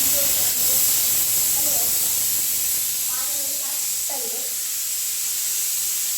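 A pressure cooker boiling pani for pani puri at home lets out a loud, continuous, close steam hiss that holds steady throughout, with faint voices talking underneath.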